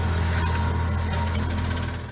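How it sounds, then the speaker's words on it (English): Construction site noise with a steady, loud, grinding mechanical roar like a jackhammer or power tool, continuous and close for about two seconds before fading slightly at the end. "If you're still confused about what construction noise is,"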